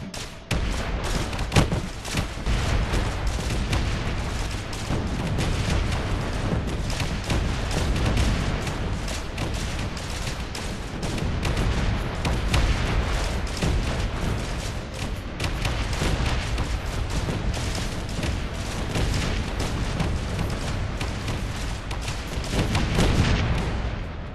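A missile barrage firing in Space Engineers from a personal frigate, a dense, continuous roar of rapid launches and blasts, loud and sustained with rumbling low end throughout.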